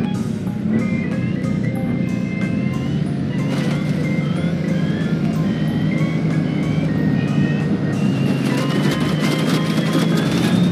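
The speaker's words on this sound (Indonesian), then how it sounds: "ini adalah mobil truk mixer" A toy cement mixer truck plays a looping electronic jingle with beeping tones over a steady mechanical hum, continuous and fairly loud throughout.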